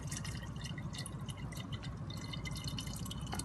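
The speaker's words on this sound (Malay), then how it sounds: "So kita masukkan air." Water pours steadily into the chamber of an SA260MA autoclave, a continuous splashing, trickling stream heard close and fairly quiet, with no talking.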